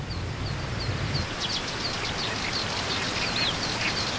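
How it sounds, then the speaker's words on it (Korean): Oriental reed warblers call from a spring reed bed, harsh chattering notes repeating at a distance over a steady wash of broadband outdoor noise. "봄 들판에 울려 퍼지는 요란한 울음소리는 이곳에서 새끼를 기르는 남동아시아 철새 개개비들이 내는 소리입니다"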